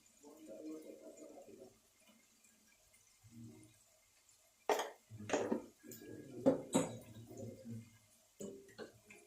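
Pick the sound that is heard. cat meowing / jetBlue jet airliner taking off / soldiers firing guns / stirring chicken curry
stirring chicken curry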